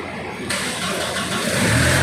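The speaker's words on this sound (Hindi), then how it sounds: "गाड़ी स्टार्ट तो हो गई, बहुत बड़ी बात है।" A damaged ambulance with no number plate, parked at a subdivisional hospital in Bundu, cranks briefly, then its engine catches and settles into a loud, rising idle close by.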